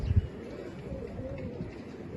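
Pigeon cooing from a pet bird kept by a young fancier, a low soft coo at the start over steady background murmur, then quieter faint rumbling.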